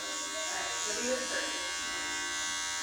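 An electric hair clipper buzzes steadily at close range while trimming hair, its hum continuous for a few seconds with someone talking over it.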